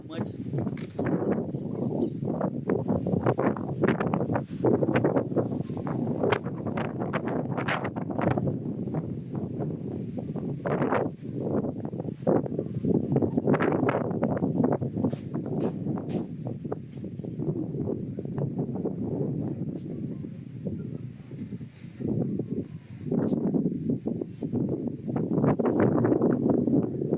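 Strong wind buffets an outdoor microphone in continuous broadband rumbling gusts that surge and dip throughout, loud and close, with a voice talking intermittently over it.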